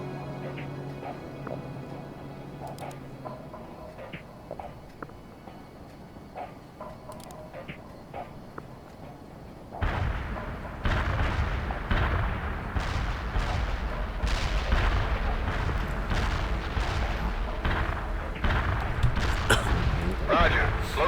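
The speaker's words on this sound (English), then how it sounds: "Artillery strike delivered." An artillery strike in the video game World in Conflict begins after about ten seconds of quiet background ambience. Repeated loud shell explosions and booms follow in close succession and keep up to the end.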